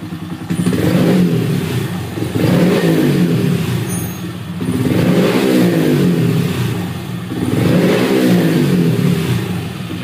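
Honda MSX125 motorcycle engine in riding mode one, revved repeatedly in four long surging pulls that rise and fall, loud and close with a steady idle between them.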